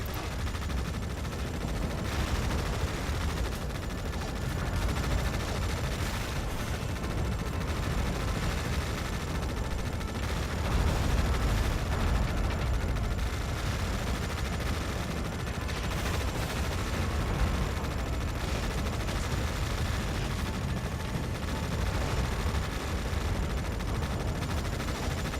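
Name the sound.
artillery and gunfire in video game Tom Clancy's EndWar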